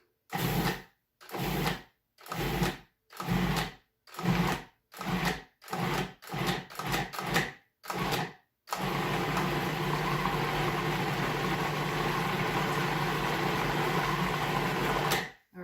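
A food processor pulses pumpkin cheesecake ingredients in about a dozen quick, loud on-off bursts, then runs continuously at a steady, grinding whir.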